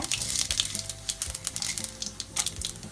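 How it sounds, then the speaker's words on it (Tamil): Mustard seeds with urad and chana dal fry in hot oil, crackling and spitting in rapid, uneven bursts over a low hiss, close and fairly quiet. "நல்லா கடுகு பொரிஞ்ச உடனே உளுத்தம்பருப்பு, கடலைப்பருப்பு உளுத்தம்பருப்பு போடுங்க"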